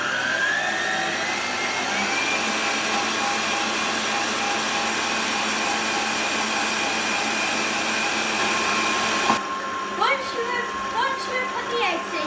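A Victoria sponge batter mixed with eggs in an electric mixer, a loud, steady motor whir that cuts off near the end, followed by quieter clinks and bowl sounds, with a voice speaking over it.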